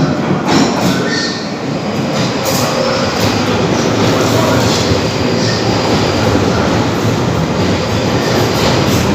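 A train rumbles steadily through London Bridge station, with a continuous loud roar of wheels and carriages, faint squeals and rhythmic rattling throughout.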